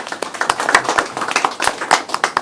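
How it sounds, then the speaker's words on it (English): A crowd claps after a minister's opening remarks at a diplomatic event, brisk overlapping handclaps with distinct sharp slaps close by, continuous for a couple of seconds. "A round of applause for him, please."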